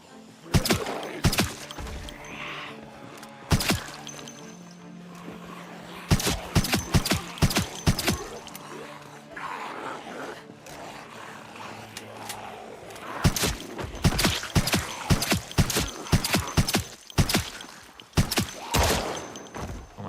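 Bursts of sharp gunshots crack in rapid clusters between quieter stretches, with a faint voice briefly underneath, sounding like combat in the video game Project Zomboid.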